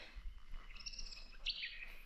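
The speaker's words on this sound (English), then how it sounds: "Ooh, there's a bird." A bird calls during a hike through the Bungle Bungles, a few thin, high chirps rising briefly over quiet outdoor background, fairly faint and distant.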